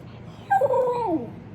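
A dog gives a short, high, wavering whimper close by, a single plaintive whine that rises and bends downward, with no speech over it.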